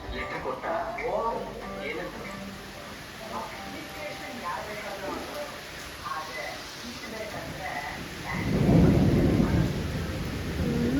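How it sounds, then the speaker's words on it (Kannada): Heavy rain with a deep rumble of thunder swelling near the end, while people talk over the downpour. "ಮಳೆ ಹೋಗೋಕ್ಕಾಗಲ್ಲ"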